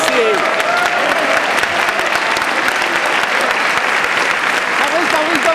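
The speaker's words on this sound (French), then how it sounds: "Applaudissez!" A crowd claps loudly and steadily throughout at the Hospices wine charity auction, a dense, sustained wash of applause with cheering voices and shouts mixed in.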